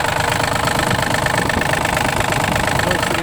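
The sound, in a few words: Yanmar RS270 three-cylinder tractor engine idling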